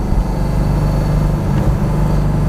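A C5 Corvette Z06 sports car engine runs steadily at 3,000 RPM with a deep, constant droning hum and rumble, loud and close, with no talking.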